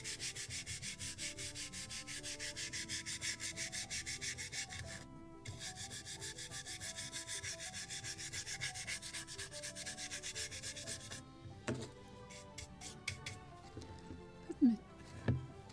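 Steady rhythmic sanding strokes rub across wood on a Midwest Muscongus Bay Lobster Smack model boat kit, close and continuous for most of the stretch before breaking into a few scattered rubs and light knocks.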